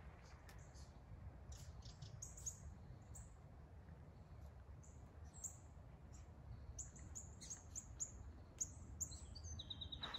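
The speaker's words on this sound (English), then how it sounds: "Late winter, the birds are singing." Birds sing in woodland in late winter, scattered high chirps and short tweets, soft and somewhat distant over a quiet low rumble of background noise.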